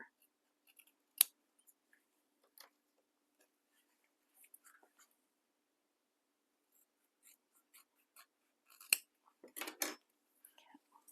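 Scissors snip through fabric seam allowance while a shoulder bag is sewn, a few sharp close cuts sounding at scattered moments and a denser cluster near the end, with near silence between.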